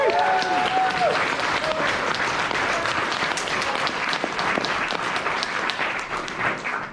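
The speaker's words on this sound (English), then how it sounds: "Let's give Ethan a round of applause." An audience at a convention opening ceremony breaks into loud, continuous applause for the sound and AV technician, dense clapping with some cheering voices mixed in.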